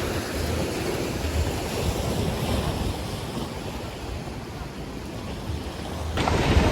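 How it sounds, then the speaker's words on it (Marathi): Sea waves roll in at Worli, Mumbai, near the sea link, as a constant broad wash of surf mixed with wind buffeting the microphone, swelling slightly near the end. "आणि लाटा बघा खूप आहेत त्या साईडला."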